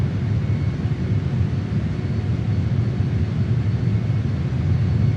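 A JAS-39 Gripen jet flies over the Andorra valleys in Microsoft Flight Simulator, its engine a loud, continuous low roar with no other sounds.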